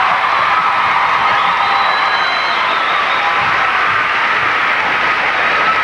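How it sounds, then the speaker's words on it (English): Arena audience at a 1995 figure skating legends event applauding and cheering skater Victor Petrenko, a loud, dense, sustained wash of clapping and crowd noise with scattered whoops. "Nice round of applause for Victor Petrenko."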